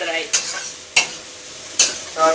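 Chow mein noodles stir-fried in a pan, steady sizzling broken by three sharp scraping strokes of a utensil against the metal.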